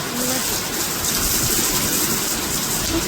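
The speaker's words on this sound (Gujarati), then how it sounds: "દદેડા પડે વરસાદ." Heavy rain pours in a steady, dense hiss, continuous and even throughout with no pauses.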